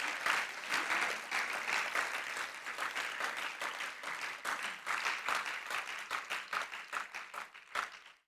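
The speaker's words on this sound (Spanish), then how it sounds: "¿Cuántos aplaudimos el nombre del Señor?" A church congregation applauds during a missionary worship service, a lively burst of many hands clapping that rises and falls in waves for about eight seconds, then stops abruptly.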